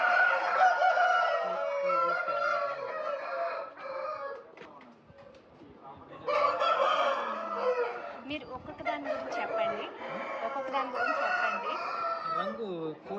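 Several fighting game roosters at a breeding facility crow loudly and repeatedly, their long calls overlapping in two bursts with a brief lull between, clucking mixed in.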